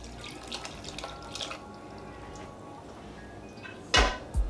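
Turkey stock from the boiled turkey trickles in small amounts into turkey dressing, a faint wet dripping over quiet room tone, followed by a couple of sharp utensil clanks.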